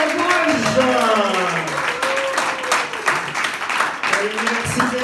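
An audience applauds at a slam poetry stage night in Tours, a steady burst of clapping running under someone speaking and voices calling out over it.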